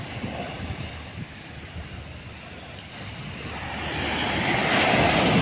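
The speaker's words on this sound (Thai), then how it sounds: "คลื่นแรงอยู่ครับพัดต้นสนไปเลยครับผม" Rough sea waves pounding a beach as strong wind whips through pine trees, a continuous loud wash of surf and gusting wind that swells louder toward the end.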